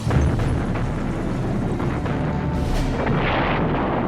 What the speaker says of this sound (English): the Germans at the Zelo Heights were blasting away with a highly effective weapon, their famous 88mm gun.